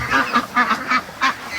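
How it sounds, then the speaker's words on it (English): Several hundred free-range ducks in a swamp call in a rhythmic series of about five nasal quacks, fairly close and steady, with no one talking. "there's about 400 or 500 ducks down in the swamp right now"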